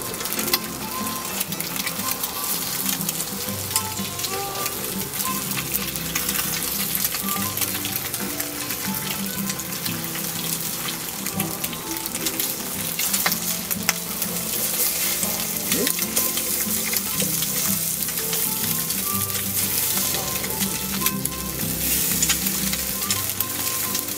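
Eggs frying in grease on a BBQ skillet over a rocket stove, a loud continuous crackling sizzle that holds steady throughout, with occasional soft clinks of a utensil.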